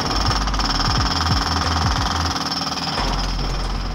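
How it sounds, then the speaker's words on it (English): Heavy machinery breaking up a concrete slab on a demolition site, a loud, steady rapid hammering over a running engine, close and continuous with no speech. "We're just taking up the concrete slab now."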